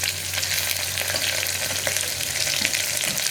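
Sliced onion, two sprigs of curry leaves and green chillies fry in a pan with a loud, steady sizzle and crackle, occasional stirring scrapes showing through close up.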